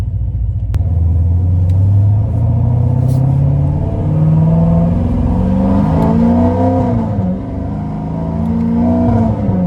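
A powerful supercharged, cammed 850 hp Chevrolet C7 Corvette Z51 engine roars loudly and revs upward in rising sweeps, a heavy rumbling drone close by with no talking.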